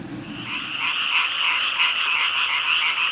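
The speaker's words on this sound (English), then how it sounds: "Open the window, and you can listen to the chorus of frogs." A dense chorus of frogs croaking steadily on an early summer night in the Japanese countryside outside a ryokan by the Saigawa River, a continuous pulsing trill with no voices.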